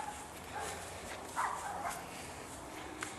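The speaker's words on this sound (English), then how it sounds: "the dogs barking kind of bothered me, but geez, now it's just background noise" A few faint dog barks come from a distance, scattered over steady outdoor background noise.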